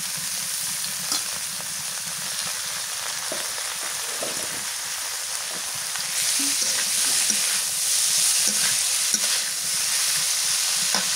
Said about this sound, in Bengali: এবার দিয়ে দিই চিংড়ি মাছ।